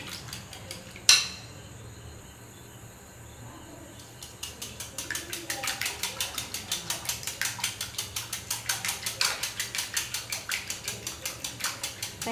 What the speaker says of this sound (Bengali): আমি সেভাবে নেড়ে মিশিয়ে নেব।